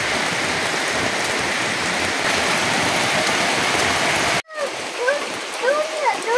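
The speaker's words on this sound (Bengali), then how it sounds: "এমন বৃষ্টি নামছে, বৃষ্টির কারণে আজকে ঘর থেকে বের হওয়া যাইতেছে না, ধুম বৃষ্টি পড়তেছে" Heavy village rain pours down outside a house as a steady, loud, broadband hiss that holds for over four seconds, then cuts off briefly before resuming with bird calls chirping over it.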